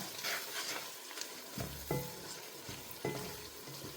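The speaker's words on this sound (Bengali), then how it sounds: "সব থেকে আগে আমি হলুদটা দিব এতে করে খিচুড়ির কালারটা খুব সুন্দর হবে আমি হলুদটা আগে একটু ভেজে নেব" Turmeric frying in oil in a pan for bhuna khichuri, a quiet steady sizzle with a few soft spoon scrapes and taps against the pan, close and without any talking.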